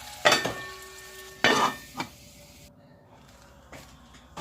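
Hot garlic oil poured over cooked lentils, with two sharp loud bursts of sizzling followed by a shorter hiss, then clinking and quiet stirring as the sizzle dies down.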